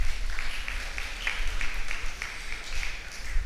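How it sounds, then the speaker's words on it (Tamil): A church congregation at Sunday Mass claps together in a brisk, roughly rhythmic patter, moderately loud over a low background hum. "கைத்தட்டுங்கம்மா."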